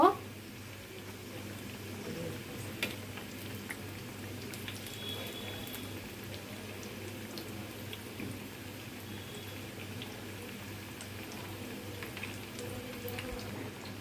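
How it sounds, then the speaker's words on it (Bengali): Pakon pitha frying in hot oil in a home kitchen, a steady soft sizzle and bubbling that runs unbroken throughout at moderate level, with occasional faint clatter. "পিঠাগুলো উল্টিয়ে দিয়েছি, এখন অপর সাইডটা ভাজা হোক।"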